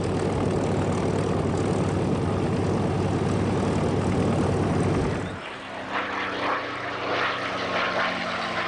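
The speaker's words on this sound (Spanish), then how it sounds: "el rugido de los motores sobrealimentados Merlin Rolls-Royce de 12 cilindros en línea" Roar of supercharged Rolls-Royce Merlin 12-cylinder inline aircraft engines from WWII Spitfire and Mustang fighters, a loud, dense, steady drone that cuts off abruptly about halfway through, leaving a quieter hum.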